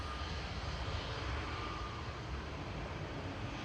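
Boeing 737-800, registration EI-DWT, flight 4776 at Manchester Airport: a steady, broad jet engine roar that holds even and continuous throughout, heard from moderate distance with no voices.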